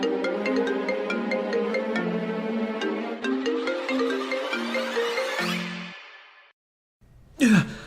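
A phone ringtone plays an incoming-call melody of bright repeating tones, fairly close and clear, then stops; after a short silence a sharp gasp follows.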